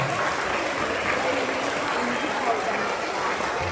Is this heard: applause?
yes